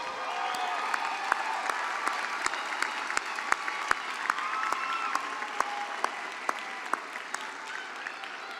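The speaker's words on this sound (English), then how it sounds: "let's give our readers of the names a round of applause." Graduation commencement audience at Lamar University applauds in a large hall, a sustained, even wash of clapping with sharper individual claps standing out and faint crowd murmur beneath.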